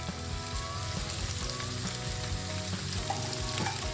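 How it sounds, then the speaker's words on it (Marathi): Potato and other vegetables fry in a pan with pav bhaji masala stirred in, giving a quiet, steady sizzle with a faint hum underneath and no voices. "चांगला परतून घेऊ थोडा पावभाजी मसाला"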